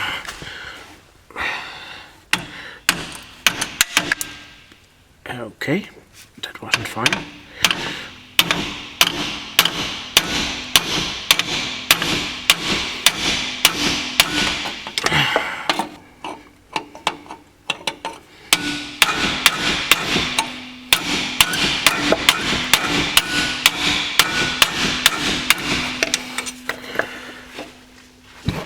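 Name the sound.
hammer striking pin with a punch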